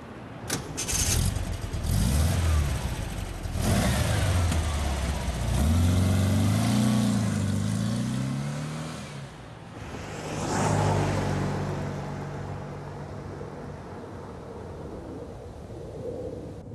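Car driving at night, engine revving and shifting up through rising and falling tones, loud and near, then easing to a steadier cruising drone with road noise.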